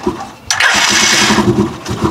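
A car engine cranks briefly, then catches and roars into a loud, steady rumble that holds close by.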